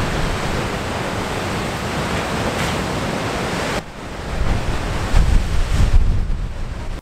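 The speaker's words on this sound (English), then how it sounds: "hearing the waves crash onto the rocks below will make even an agnostic feel pretty spiritual" Sea waves crash onto rocks below a Pembrokeshire coastal path, a broad, steady roar of surf mixed with gusty wind buffeting the microphone, growing rougher toward the end.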